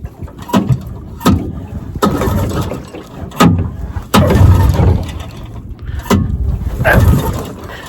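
Repeated pull-starts on a choked 1957 Johnson Sea Horse outboard motor, left in gear, give about seven loud, close rope yanks with rattling mechanical clatter, and the engine never catches.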